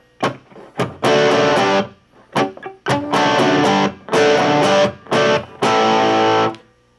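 Electric guitar through an inexpensive amp plays rock rhythm chords at reduced gain, loud crunchy strummed bursts separated by short gaps and muted chops.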